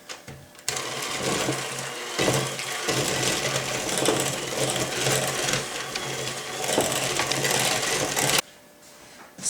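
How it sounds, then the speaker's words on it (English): An electric kitchen mixer beats eggs into cookie dough, starting with a steady whirring buzz that briefly dips, resumes and then cuts off, leaving quiet. "we're going to add the eggs. So we got 2 eggs. And we're going to mix those in."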